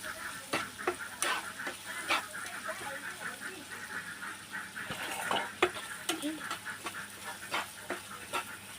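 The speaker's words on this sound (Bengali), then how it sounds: "মশলাগুলো আস্তে আস্তে ভেজে" Spices and salt are stir-fried slowly in a pan for a pangas fish curry, a low sizzle broken by repeated scraping strokes of a spatula at an irregular rhythm.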